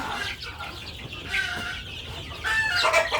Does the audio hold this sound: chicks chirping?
yes